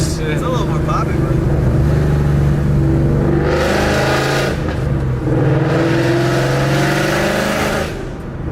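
A car with new exhaust headers, not yet tuned, rumbles loudly at close range and swells through two revs before settling, with voices talking over the engine throughout.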